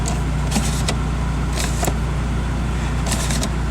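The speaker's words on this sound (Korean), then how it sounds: "이 송풍구가 올라가요." A motorized air vent tilts upward in a classic car's dashboard, a steady low motor hum under a few faint clicks, heard close inside the cabin.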